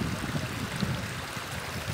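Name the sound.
water flowing through rock channel at Maras salt ponds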